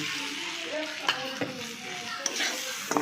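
Beaten, salted egg goes into a hot pan with fried onions and sizzles loudly, with a few sharp spatula knocks and scrapes as it is stirred.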